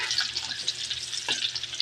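Onion frying in hot cooking oil in a home kitchen while preparing sautéed shrimp paste: a steady, close, crackling sizzle with a brief louder burst near the end, and no talking.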